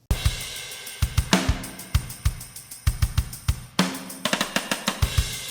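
A wide, spread-out acoustic drum kit from Logic Pro plays a steady pattern of kick, snare and cymbal hits, each stroke trailing a roomy reverb tail that fills the gaps.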